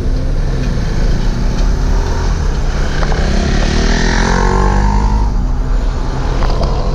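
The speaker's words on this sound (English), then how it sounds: "we're going to go ahead of the motorcycle" A motorcycle engine rumbles steadily nearby on a road in Fort Lauderdale Beach, Florida, with a low drone and rising, shifting tones as it runs and passes along.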